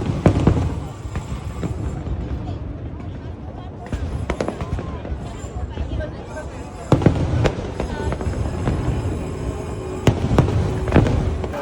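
Fireworks in Singapore crackle and pop continuously at a distance, with sharper bursts now and then and people talking underneath.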